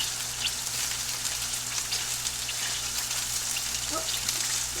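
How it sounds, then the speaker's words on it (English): Vegetables sizzle and crackle steadily in a hot oiled pan, a continuous close hiss with small pops, and no talking. "Sizzle those up."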